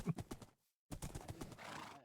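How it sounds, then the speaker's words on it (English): A horse in the Hoplite video game neighs and clops rapidly, a loud burst, then a brief silence before another whinny with hoofbeats, no talk over it. "Take the horse, Shep."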